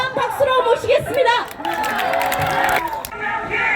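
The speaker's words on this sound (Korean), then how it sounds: "힘찬 박수로 모시겠습니다" At an outdoor candlelight protest rally, a voice announces a speaker and then the crowd breaks into clapping and cheering. The noise is a short, rough burst of crowd sound that settles into a lower murmur.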